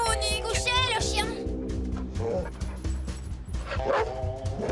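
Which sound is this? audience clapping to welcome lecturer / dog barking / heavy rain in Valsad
dog barking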